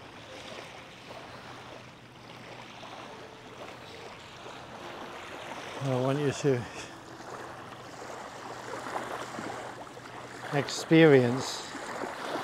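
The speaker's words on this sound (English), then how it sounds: "the sound of the waves is getting stronger" Sea waves wash onto a beach in a steady, broad roar that swells and recedes, with someone talking over the surf throughout.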